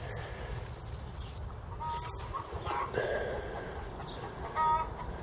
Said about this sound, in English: Can you hear Spencer and Martin's chickens?